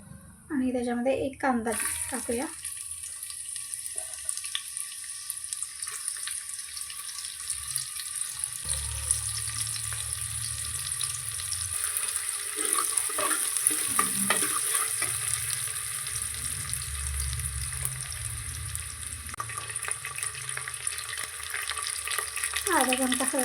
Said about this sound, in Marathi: दोन चमचे तेल त्याच्यामध्ये मी मसाला फुल आणि दालचिनी टाकणार आहे आणि तमालपत्र ॲड करायचं त्याच्यामध्ये घालायचं हे मस्त भाजू द्यायचं